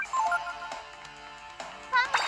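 A mobile phone ringtone plays a melodic tune of bright repeated notes at moderate volume, with a sharper ringing burst near the end.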